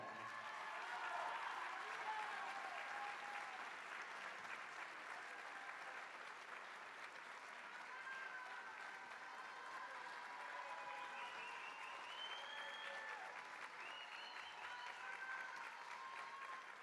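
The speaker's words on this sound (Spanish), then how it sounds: "Recibimos con un fuerte aplauso" Sustained audience applause welcoming a singer onstage at a singing workshop concert, a steady even wash of clapping from a crowd holding for about seventeen seconds with scattered whistles and cheers on top.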